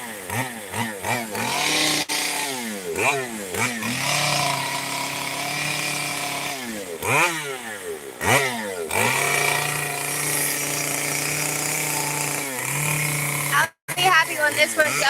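A video game chainsaw revving repeatedly in rising, sputtering bursts, loud and close, with a steady buzzing idle between pulls.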